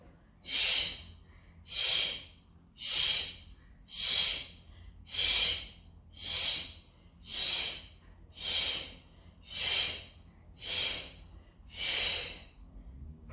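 Steady, paced breaths out during a Pilates exercise, about eleven breathy, hissing exhales spaced roughly a second apart, close and clear against a quiet room.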